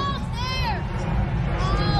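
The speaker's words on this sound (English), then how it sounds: "Everybody's cheering." Crowd cheering and calling out as the 2024 total solar eclipse reaches darkness, a dense continuous roar of many voices with excited shouts rising over it throughout.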